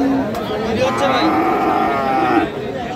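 A Friesian cross bull calf, seven to eight months old, moos in one drawn-out, loud, close call at the Raniganj cattle market, with faint crowd chatter behind it.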